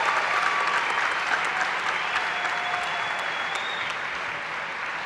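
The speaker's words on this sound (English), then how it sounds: "Please, a warm applause for these people." Conference attendees at a toast give sustained applause, a loud, dense stretch of many hands clapping that stays even before easing slightly toward the end, with a few faint whistles and no speech.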